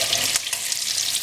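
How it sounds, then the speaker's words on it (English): Eggs frying in hot oil under a lid in a pan for Bangladeshi egg curry, a dense, continuous close sizzle and crackle of spattering oil over a bit more than a second. "we're frying the eggs just to kind of shield ourselves from sputtering hot oil"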